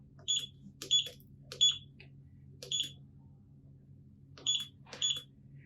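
A BTG wristwatch alarm giving short high electronic beeps, six of them in irregular pairs and singles over a low background hum, clear but not loud.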